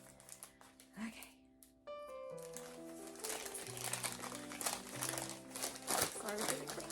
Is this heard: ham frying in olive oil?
no